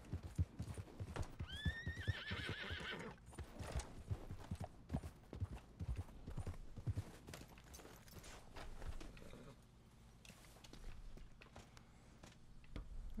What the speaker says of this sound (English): Gotta get my horse.